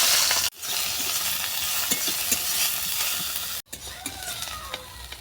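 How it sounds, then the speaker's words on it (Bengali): Ol saak greens frying in fish oil give a continuous bright crackling sizzle, close and fairly loud, with two brief abrupt dropouts. "এরপর ওল শাকটাকে ভেজে নেব।"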